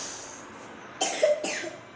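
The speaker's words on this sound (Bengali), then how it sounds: "কাশিটা দুষ্ট করে দিল রে" Two sharp coughs close together in the second half, the second one slightly drawn out, near and fairly loud after a quiet lead-in.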